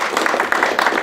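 A brief burst of steady clapping from a banquet crowd at the Harvard golf banquet, applauding award winners and speakers, a dense even patter of many hands at moderate loudness.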